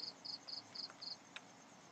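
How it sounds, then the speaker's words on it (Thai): Crickets chirping nearby at night, five short, evenly spaced high trills followed by a brief faint chirp, against quiet background. "ได้ยินเสียงจิ้งหรีดจากบ้านใครคุณ"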